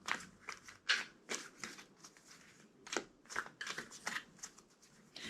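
Tarot cards are shuffled by hand, producing repeated quick riffling bursts and soft papery slaps at an irregular rhythm, close and fairly quiet.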